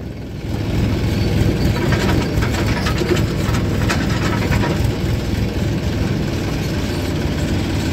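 A water tanker truck drives along a road spraying water to settle the dust, its engine holding a steady, close rumbling drone throughout.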